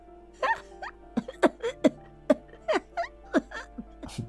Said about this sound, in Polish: Sprzątaczka zaczyna się śmiać, aż nagle wstrząsa nią gwałtowny atak kaszlu.